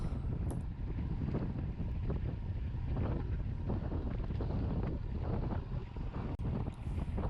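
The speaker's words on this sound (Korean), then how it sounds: "혹시 들리시나요? 이 바람 소리?" Steady, roaring wind buffets the microphone of a cyclist riding at the front of a group, a dense rumbling rush with no pauses, like gusts blowing hard across open water.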